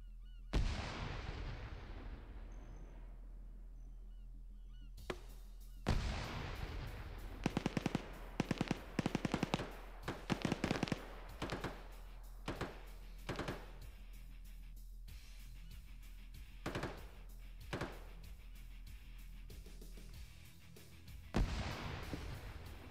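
War video game combat between US and Russian forces, with tanks, infantry and armour: a steady low rumble under repeated sharp blasts and bursts of gunfire, some clustered in quick runs, others isolated, at moderate loudness and with no talk.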